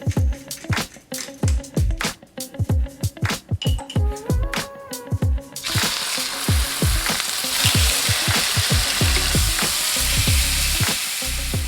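Food sears in hot ghee in a pan, starting with rapid close clatters and scrapes from turning it, then a loud, even, continuous sizzle that fills the second half.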